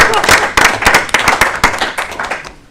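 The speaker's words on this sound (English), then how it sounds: "we can clap for him anyway" Applause in a village board meeting room for an employee of the month from the Parks Department, a short burst of hand clapping from a modest group that fades out after a couple of seconds.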